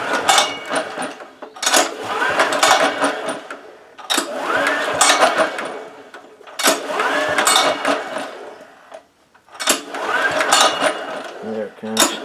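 A 10HP diesel engine turned over by hand at about three-quarter throttle, giving repeated loud cranking bursts in a regular rhythm with short pauses between pulls.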